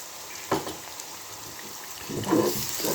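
Cumin seeds tossed into hot oil with sprouts and potato in a pan give a soft, crackling sizzle, with two brief louder spurts of spattering and no talking.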